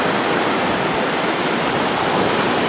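Sea waves wash onto the beach at Lignano, Italy, as a loud, continuous wall of surf noise with no pauses and no voices.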